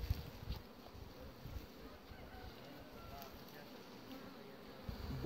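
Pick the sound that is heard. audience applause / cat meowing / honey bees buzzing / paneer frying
honey bees buzzing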